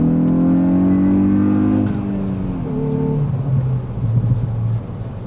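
A Hyundai i20 N hot hatch accelerates hard, its engine note rising loud and steady for a couple of seconds, then easing into a lower throaty drone with a brief gearshift dip, heard close from inside the light car.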